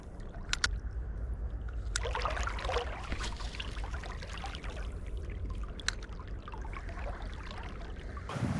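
A powerful trout creek pours and gurgles in a continuous moderate wash, broken by a few close taps and splashes near the bank, with no voices.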